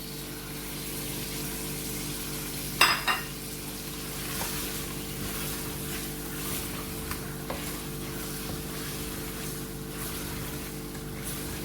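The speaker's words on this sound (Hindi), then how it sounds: "देखिए अब इसकी बुनाई करते करते मैं साथ में शिमला मिर्चें डाल दूंगी।" Capsicum and garlic frying in oil in a pan while being stirred: a steady, close sizzle with a sharp clatter of the spoon near the start and a few light scrapes later, no voices.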